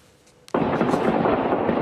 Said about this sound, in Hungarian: Hangos robbanások rázták meg Moszkva környékét